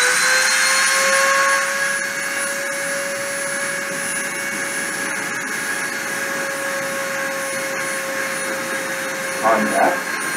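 A CNC spindle motor spins at 30,000 RPM during deposition, giving a steady high-pitched whine with a constant airy rush beneath it and a voice speaking faintly underneath.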